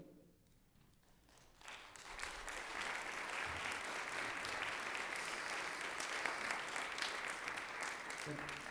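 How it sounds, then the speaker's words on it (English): Applause swells from a quiet start into sustained, dense clapping as officers are introduced at an MLK Day celebration, a crowd's steady roar of hands holding for several seconds with a voice speaking at the outset. "If you can hold your applause, that might be helpful"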